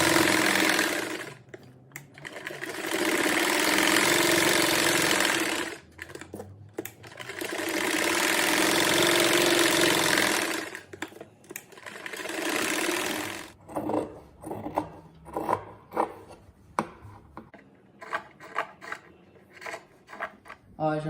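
A sewing machine stitches a seam around a fabric patchwork rug made of small squares on a matelassé base. Two long, steady runs of motor whir give way to a string of short, stop-start bursts, close and clear, with no talking.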